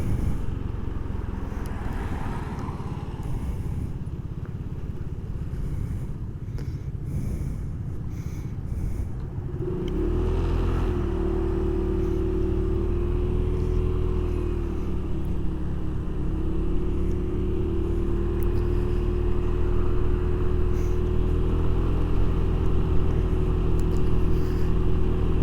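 Traffic rumble on a busy road heard from a moving Genuine Buddy 170i scooter, a steady loud engine and road drone with wind noise that steadies into a continuous hum with a tonal whine midway, no talking.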